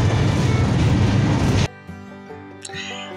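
Loud, steady rumble of a moving express train heard from inside a cabin, which cuts off abruptly into a quieter tonal hum with a brief clink.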